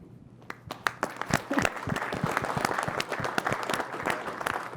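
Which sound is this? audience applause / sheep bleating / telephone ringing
audience applause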